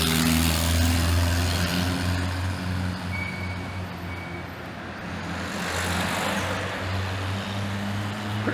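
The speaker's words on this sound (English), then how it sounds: "you'll see this blue car go past because it's a proper old school French car" An old-school classic car passes on a road in France, a steady low engine rumble that swells and fades over several seconds, heard alone with no talking.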